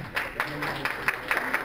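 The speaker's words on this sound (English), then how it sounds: "Another round of applause, Ms. Long." Scattered clapping from a small audience at a gala and awards event, uneven and fairly light, with some background voices mixed in.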